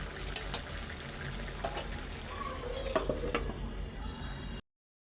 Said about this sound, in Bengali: এত জোরে জোরে এক একটা বৃষ্টির ফোঁটা পড়তেছে, মনে হয় কি টিন ছিদ্রি হয়ে যাবে